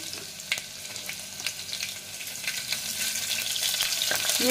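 Green chilies sauté in ginger garlic paste, a steady close sizzle and frying hiss with occasional stirring taps, growing slightly louder toward the end.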